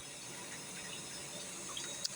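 A bathroom tap runs with a faint, steady stream of water and a small drip near the end.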